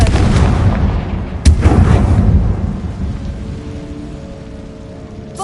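A Confringo fire spell in Hogwarts Legacy bursts in a loud, booming blast with a sharp crack partway through, then a rumbling roar that slowly fades into a low hum.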